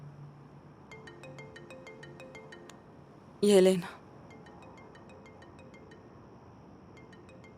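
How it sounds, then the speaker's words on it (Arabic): A mobile phone ringtone plays a short series of melodic electronic tones, then stops. A brief loud voice follows over a faint background hum. "رد على موبايلك عم يرن."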